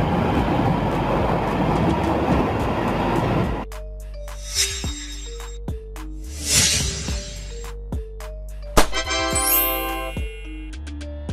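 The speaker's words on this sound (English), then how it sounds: "Subway train. An underground or elevated train system designed for rapid transit in urban areas, commonly used for commuting within cities." An urban subway train rumbles loudly and continuously at first, then drops to a quieter stretch of clanking, metallic squeals and a rising whine as it runs along the rails, with no voices present.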